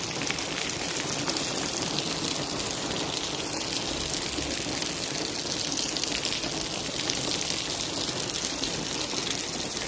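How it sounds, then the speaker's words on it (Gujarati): A sudden heavy downpour in Modasa sends water rushing along the road, a dense, constant roar of rain and flowing runoff at even loudness throughout. "એકદમ આવી ગયો વરસાદ અને ગાઈસ જો પાણી કેટલું બધું છે રોડ ઉપર"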